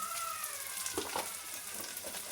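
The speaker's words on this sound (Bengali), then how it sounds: "এবার ভালো করে ভেজে নিতে হবে পেঁয়াজটা।" Onions frying with salt in a pan give a soft, steady sizzle throughout, fairly faint and even, with a couple of light stirring clicks and no talking.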